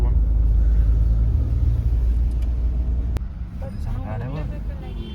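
Heavy road traffic of cars, trucks and water tankers rumbles past on a busy road at the Pandharpur pilgrimage. A deep, loud engine drone dominates at first, then eases as a person starts talking over it.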